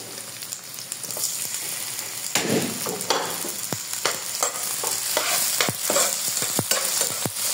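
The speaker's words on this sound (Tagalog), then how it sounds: "We combine together garlic, onions, and tomato like that." Garlic, onions and tomato frying in a pan, stirred with a utensil: steady sizzle throughout with repeated sharp scraping and clinking strokes, close and fairly loud, no voices.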